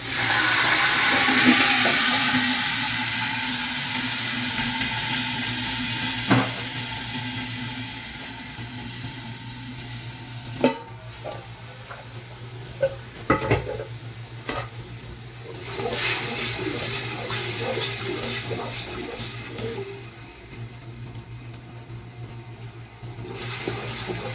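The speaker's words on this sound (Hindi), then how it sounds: "अब इसमें मैं 1 कप पानी डाल देती हूँ।" Water poured into a hot pot of browned chicken pulao, a loud rushing hiss at first that settles into simmering bubbles and occasional clinks.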